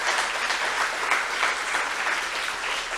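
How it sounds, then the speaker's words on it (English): An audience gives a round of applause for student presenters at a student showcase, with dense, even clapping filling the full three seconds. "Can we give a last round of applause to all the student presenters?"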